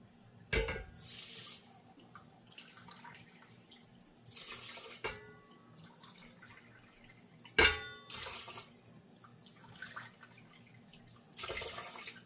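Water goes into a pot holding short grain rice in a home kitchen, as several brief splashing pours separated by quiet gaps, near and moderately loud, with a faint background hum.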